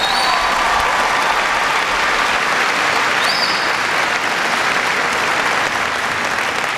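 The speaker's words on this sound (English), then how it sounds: "Give him a big round of applause." Sustained crowd applause for Vice Admiral Jamie Fogo at a naval gathering in Rota, steady and dense clapping filling the whole stretch with a few brief whistles on top.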